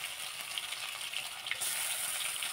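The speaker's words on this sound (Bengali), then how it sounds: "গ্যাসটা কমিয়ে নিই তো ভালোভাবে এটা একটু ভেজে নেবো" Panch phoron spices fry in hot oil over lowered gas heat, making a soft, even hiss that runs steadily throughout with a faint stir or two and no talk, fairly quiet.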